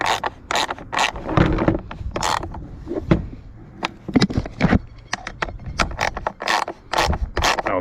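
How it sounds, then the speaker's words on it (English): A screwdriver turns a screw in the plastic air filter housing of a 2013 Ford Kuga, its over-tightened thread already stripped, giving close, repeated scraping and creaking clicks in short irregular bursts. "I'll just use the screwdriver to show you."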